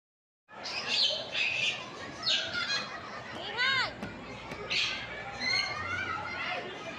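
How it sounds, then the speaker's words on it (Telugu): Many birds, including macaws, call at a marine park exhibition: repeated chirps, whistles and rising squawks, close and loud, over a background of crowd chatter and talking. "అవన్నీ ఆల్రెడీ సౌండ్స్ అవన్నీ వినిపిస్తున్నాయి పక్షులవి"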